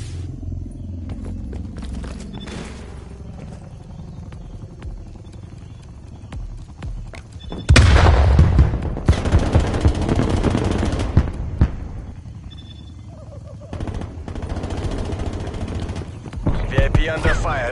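Automatic gunfire in a Call of Duty: Cold War search-and-destroy match comes in several heavy rapid bursts, loud and near, mixed with rumbling game effects, and voices speak between the shots.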